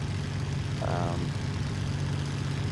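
A Spitfire's piston aircraft engine in the IL-2 Cliffs of Dover flight simulator drones steadily and loudly throughout, a constant low cockpit rumble with a brief tonal waver near the start.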